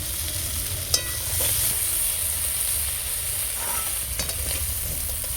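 Prawns frying in a wok, a steady hissing sizzle with occasional stirring scrapes and a brief sharp clink, close and continuous without any talk.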